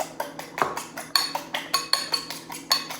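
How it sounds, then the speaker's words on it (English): Eggs whisked vigorously in a bowl, round and round with lifting strokes, giving a quick, steady run of light metallic clinks and scrapes close by with no talking. "You want to whisk for a long time, sort of vigorously, because you want to incorporate air into your eggs."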